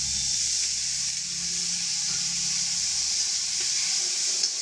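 Fish sizzling steadily in hot oil in a pan, a dense continuous frying hiss with occasional stirring, close and fairly loud with no talk.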